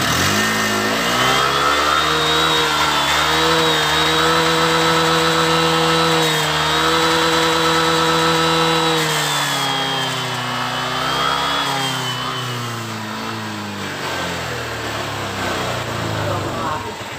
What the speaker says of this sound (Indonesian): Coba digas ya coba ya. Kayak berbet mau mati ini loh pokoknya.